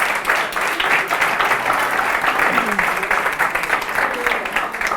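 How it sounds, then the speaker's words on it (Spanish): Sustained audience applause for Juanjo after he plays a character in a public-speaking session, a dense steady clapping from a room full of people lasting the whole span with no pause. "Un aplauso para Juanjo en su papel de..."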